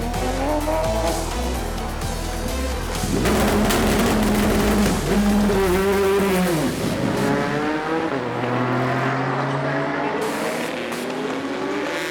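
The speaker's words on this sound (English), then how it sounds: "It's a very good place to see the Porsche coming through here." A Porsche race car at the FIA WEC 6 Hours of Bahrain 2017 passes through turn 10, loud and close, its engine note rising and falling with tyre squeal as it sweeps by and fades.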